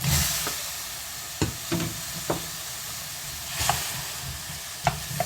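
Potatoes and water going into chili oil in a pan for braised potatoes, a steady hissing sizzle broken by several sharp clunks and scrapes as pieces land and are moved about.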